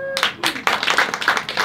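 A comedy stand-up audience bursts into brief clapping, a loud, dense patter of many hands that swells quickly and carries on for the whole short moment.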